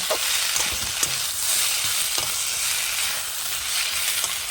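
Spices (turmeric, cumin, coriander powder) being stirred into a Nile tilapia coriander fish curry in a hot pan, a steady close sizzle with repeated soft scraping strokes of a spoon, no voices.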